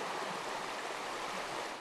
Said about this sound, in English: A creek runs through it,